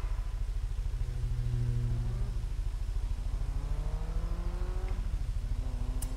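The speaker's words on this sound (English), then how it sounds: "Cayman GTS." Porsche Cayman GTS engine in the Forza Horizon 3 racing game, a steady mid-pitched drone that rises and falls through gear changes, close and continuous without talk.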